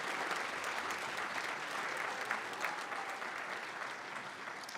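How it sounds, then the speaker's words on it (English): An audience at a Martin Luther King Jr. celebration applauds for the MLK choir, a dense, even roar of clapping from many hands that holds steady throughout. "let's give everyone a round of applause, including our MLK choir for having a great event"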